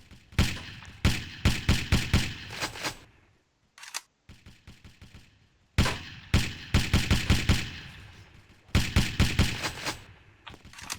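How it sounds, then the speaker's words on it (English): Video game gunfire comes in rapid automatic bursts of several sharp shots each, separated by brief pauses and a few single shots, loud and close with no talk. "Now I should be able to shoot him."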